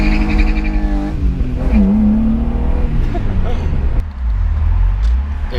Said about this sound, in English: Let's do one last little burnout to send these things off,